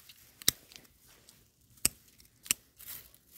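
Garden shears snip through plant branches during spring pruning in a garden, three sharp, close cuts spaced roughly a second apart, with quiet rustling between them and no talking.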